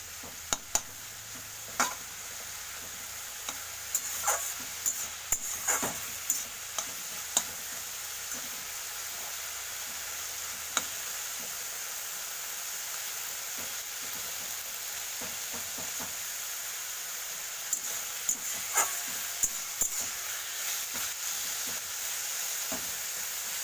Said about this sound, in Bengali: একটু স্টিমটা বাড়িয়ে দিয়ে একটু ভাজা ভাজা করে নেবো